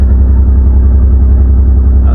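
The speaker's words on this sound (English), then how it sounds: "That's the exhaust. Apparently it's a power flow exhaust of some sort" An MG ZS 180 V6 idles through an aftermarket power flow exhaust with a loud, steady, deep throb and a regular low pulse, close to the tailpipe and heard alone.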